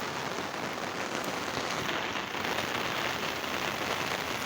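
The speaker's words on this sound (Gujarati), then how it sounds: "તમે જોઈ શકો છો વરસાદ પડે હારામાં હારો." Heavy downpour drumming steadily on surfaces in a rural cattle-keeping setting, a dense continuous hiss of rain throughout with no pauses, loud and close, no talking.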